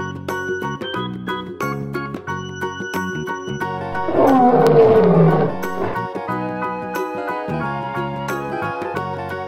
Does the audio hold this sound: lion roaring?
yes